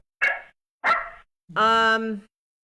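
A dog gives two sharp barks close by, then a longer drawn-out yelping whine, each sound separated by brief silence.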